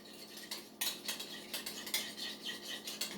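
A utensil stirs golden balsamic vinegar sauce in a dish, giving repeated close, light scraping clinks in an uneven rhythm.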